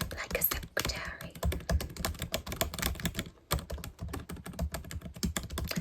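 Fingernails tap quickly and lightly in an ASMR session, mimicking a secretary typing on a keyboard, with dense close clicks broken by a brief pause and soft, whispery sounds mixed in.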